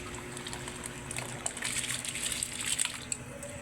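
Soaked biryani rice poured into a pot of boiling water, a steady close bubbling rush with brief splashes over a constant low hum, no voices.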